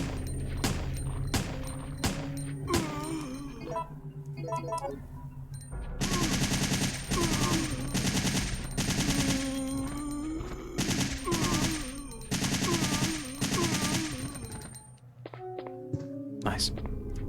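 Carlos's M4 assault rifle fires on full auto in Resident Evil 3 Nemesis (1999), with loud rapid bursts of gunfire and metallic thunks. The bursts break off briefly and then resume over game music and effects.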